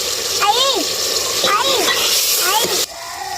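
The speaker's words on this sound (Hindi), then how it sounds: "पानी मैंने डाला है अपने हिसाब से।" Water splashes and gurgles as it is poured into a pot for potato biryani, with three rising pouring bursts close by and a voice talking over them.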